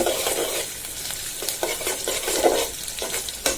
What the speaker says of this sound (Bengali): এদিকে শাক ভাজি করার জন্য আমি পেঁয়াজ আর রসুন তেলে ভেজে নিচ্ছি